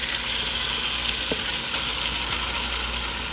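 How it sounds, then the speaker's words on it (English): Marinated chicken sizzles in butter in a pot, a steady, dense frying hiss that holds at an even, close level throughout with no talking. "Let's enjoy some sizzle time."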